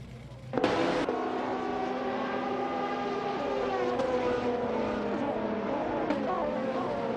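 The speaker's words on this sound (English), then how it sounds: "Right now we have a really competitive race going on in our AI racing simulator." Race cars in an AI racing simulator game at Misano scream past with high, sustained engine whine that rises and shifts in pitch as gears change, loud and continuous with no talk.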